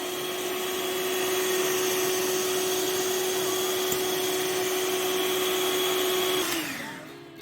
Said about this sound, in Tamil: இதை ஆட் பண்ணி மறுபடியும் இதை நல்லா பீட் பண்ணிக்கலாம்